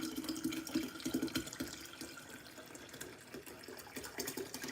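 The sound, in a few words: pouring sweet tea into a kombucha brew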